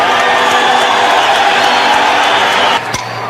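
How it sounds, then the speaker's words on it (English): A baseball stadium crowd roars and cheers in a loud, dense, continuous wash, easing off abruptly near the end. "Listen to the crowd."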